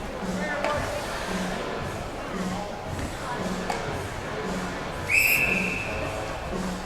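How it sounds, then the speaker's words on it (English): A referee's whistle blows once, clear and shrill, during an ice hockey playoff game, sounding over a steady rink crowd murmur with a commentator talking throughout. "and we'll get another whistle."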